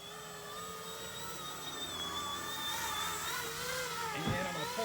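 An E-flite EC-1500 Twin RC plane hovers with its electric motors emitting a steady, whining tonal drone that wavers slightly in pitch as the throttle is worked, fairly close and continuous.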